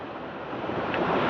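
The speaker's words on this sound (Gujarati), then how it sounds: "પાણી તો જો ધબાધબ આવે છે ભાઈ, ફૂલ ફોર્સમાં." River water rushes at full force beneath a bridge in Kashmir's Gurez Valley, a steady, dense roar that swells slightly louder toward the end, with no voices.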